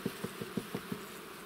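Buckfast bees at aluminium hives in an apiary give a faint, low buzzing drone with about six soft pulses in quick rhythm, heard alone without talk.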